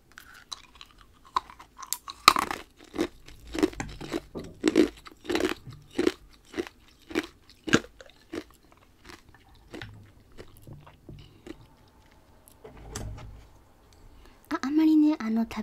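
Ice is crunched and chewed close to the microphone in a role-play ice-shop setting, with a string of distinct crunchy bites followed by softer chewing and some quiet speech.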